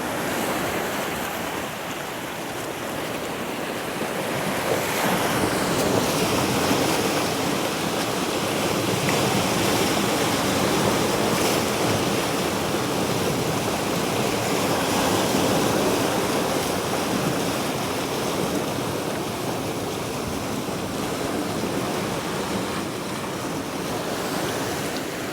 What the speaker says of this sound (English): The noise of the water, I don't know if you can make that out.